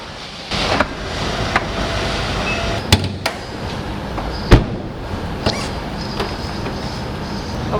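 Hood of a 2018 Mazda CX-9 2.5 Grand Touring AWD being opened: a few sharp clicks and a louder latch clunk over a quiet background hiss, close to the microphone.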